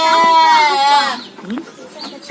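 Goat bleating up close, one long loud quavering cry that trails off, followed by softer murmuring sounds.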